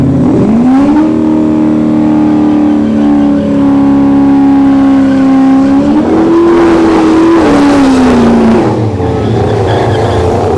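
A G-body car and a Ford Mustang roar down a drag strip in a loud, sustained engine note that climbs through gear changes before easing off, close and with no talk over it.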